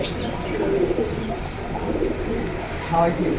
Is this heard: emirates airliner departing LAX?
no